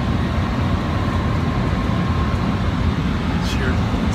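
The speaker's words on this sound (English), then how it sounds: "We're on the bullet train." Steady low rumble and broadband rush inside a Japanese bullet train bound for Tokyo, continuous and fairly loud, with a faint tonal whine riding on top.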